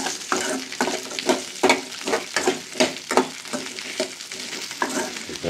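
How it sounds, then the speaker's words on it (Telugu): Sliced tindora and green chillies fry in an oily pan while being stirred, giving a crackling sizzle broken by repeated scraping strokes of a spatula in an uneven rhythm; no one speaks. "దొండకాయలు పచ్చిమిరపకాయలు వేగాలండి బాగా"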